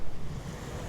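Waves break at the water's edge on a beach, with a close, rushing wash of surf and some wind buffeting the microphone. No one speaks.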